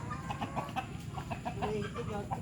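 Rhode Island chickens clucking steadily at close range, several birds overlapping in a continuous busy chorus on a farm, with soft voices faintly in the background.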